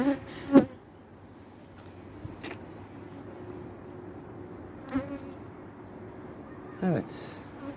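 Honey bees hum in a low, steady drone inside an opened hive during a December brood check, broken by a few brief knocks and clicks.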